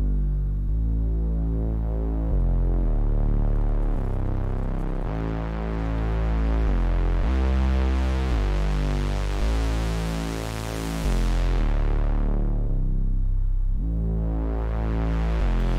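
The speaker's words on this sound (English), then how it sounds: "just to show you it can do this standard Reese bass thing quite well" A thick, buzzing Reese bass from the Bitwig Polysynth plays a slow sequence of sustained low notes, gritty and detuned-sounding, steady and loud with no voices.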